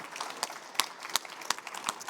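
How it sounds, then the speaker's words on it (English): A small audience at a hotel ESG talk gives quiet, sparse applause for two speakers, with a handful of distinct claps standing out over soft, thin clapping. "I want to ask you to give a big applause for our speakers, Jan Hein Simons and Erik van Dijk"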